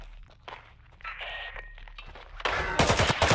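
Bursts of gunfire in the Roblox tactical shooter Hellmet, sparse shots at first, then rapid automatic fire that grows loud and dense toward the end, with scattered game sounds around it.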